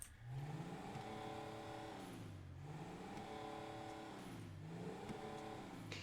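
An Albany Cavalcade SUV engine in a video game revs up and down in repeated swells, its pitch rising and falling steadily over several seconds with no talking.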